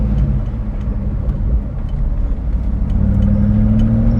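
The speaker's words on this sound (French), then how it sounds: "Donc là, vous entendez bien l'énorme V8." A Ford Mustang Bullitt's big 315-horsepower V8 rumbles deep and steady from inside the car as it drives, a continuous close, loud low drone that swells slightly near the end.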